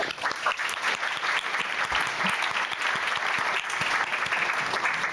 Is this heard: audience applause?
yes